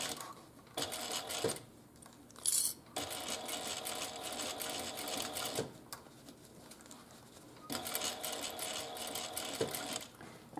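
A sewing machine stitches a pleat along the shape of a bag for a wristlet, its humming whir running in bursts of several seconds separated by quiet pauses, close and steady.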